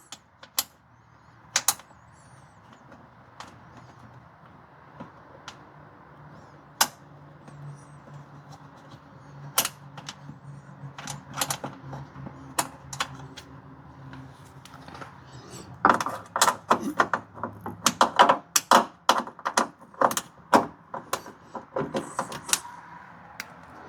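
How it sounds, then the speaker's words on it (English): Scattered sharp metallic clicks, then a rapid burst of ratcheting clicks near the end from a mini ratchet wrench turning a nut inside a Toyota Tundra door, close by and without speech. "I got my mini ratchet."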